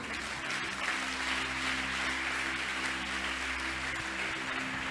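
A church congregation applauds, a steady, dense wash of clapping that fills the whole stretch, with a low hum of music or organ underneath.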